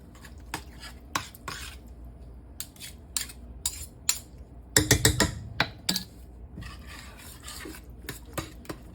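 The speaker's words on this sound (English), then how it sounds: "Give that a stir" Scraping and clinking of a spoon stirring thick tomato sauce in a metal pot, irregular strokes with a few louder knocks, close by, no talking.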